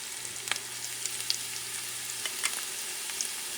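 Canned corned beef and garlic frying in a pan for a Puerto Rican plantain lasagna, a quiet steady sizzle with a few small crackles and pops.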